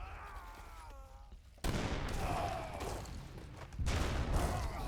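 Heavy cannon long-range shots in Age of Empires III, a broad crashing burst of gunfire that hits loudly and keeps rumbling, then a second strong volley near the end, after a quieter opening.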